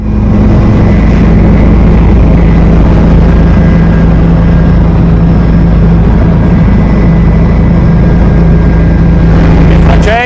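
Inside a helicopter during a ride, a loud, steady engine and rotor drone with a constant low hum fills the cabin throughout without pause.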